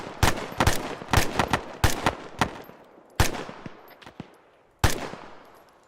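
Machine gun fire in Arma 3 rings out as sharp, loud bursts of several shots each, echoing across open terrain, with pauses in between and a few isolated single shots near the end.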